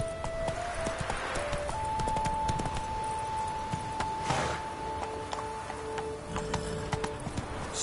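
Roach, a horse in the video game The Witcher 3, galloping with rapid rhythmic hoofbeats throughout, close and steady, with faint game tones and effects layered over the clatter.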